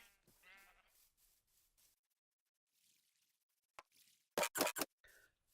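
A Minecraft sheep farm gives a few short, loud bleats near the end after a quiet stretch, with faint earlier sounds that could be more distant calls.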